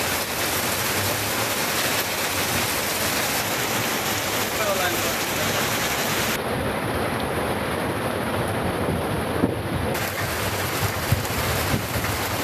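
Heavy rain pours over the Thuckalay area of Kanyakumari district in Tamil Nadu, a steady dense hiss with a low rumble that holds evenly for the whole stretch.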